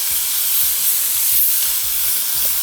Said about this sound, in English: And this will take long to saute.